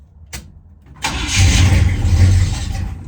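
A Chevrolet Blazer engine cranks briefly, then catches and starts, settling into a steady, fairly loud idle close by, with no talking.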